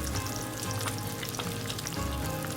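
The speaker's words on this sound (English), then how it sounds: "Okay, my bacon's ready to flip," Bacon sizzles and pops in a frying pan with a constant close crackle and scattered sharp spits of fat, heard alone without talk.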